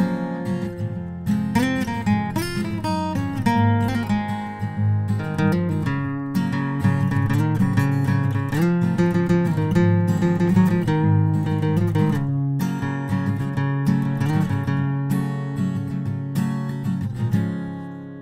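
A lively plucked guitar lead line, quick single notes and runs, played up close and clearly, with no voices.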